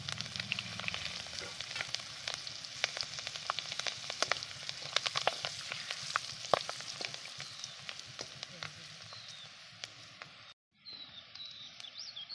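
Green chillies and curry leaves hit hot oil with white chickpeas and asafoetida while cooking patra in a village kitchen, giving a steady crackling sizzle that runs on alone before cutting out near the end, with faint birdsong in the background.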